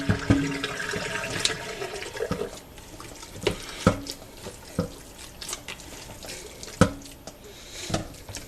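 Tap water runs over seitan dough as it is rinsed, heard as uneven splashing and gushing bursts with faint knocks in between, moderately quiet and close, with no talking.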